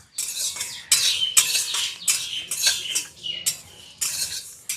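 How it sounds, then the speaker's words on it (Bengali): Whole fennel, cumin and coriander seeds rattle and scrape in a dry wok as they are stirred, giving a series of bright, scratchy metallic sweeps close by, repeated in an uneven rhythm. "সবগুলো একসাথে দিয়ে দিচ্ছি কড়ায়। হালকা নেড়ে চেড়ে তুলে নেব।"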